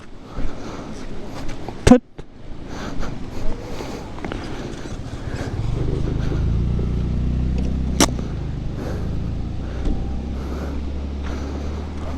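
A motorcycle on a mountain ride to Manang rolls up, its engine drone rising from a low rumble into a steady, fairly close hum over the second half, after some scattered clatter and a sharp knock.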